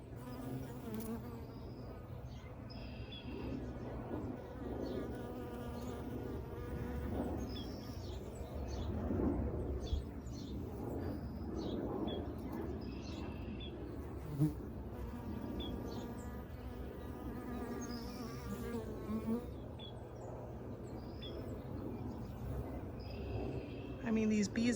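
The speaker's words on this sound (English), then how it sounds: "these bees are just swarming over here like crazy" Bees swarming over blooming anise plants in a raised garden bed, a continuous low buzzing drone with individual insects passing near, while a person talks over it and birds chirp faintly.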